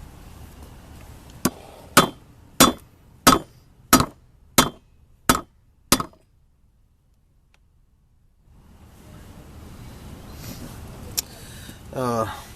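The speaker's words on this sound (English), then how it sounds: "just gonna start tapping with a hammer kind of lightly" Eight sharp metallic taps from a hammer on a universal joint of a 2000 Ford Expedition in a steady rhythm, close and clear, followed by quiet and then faint background noise.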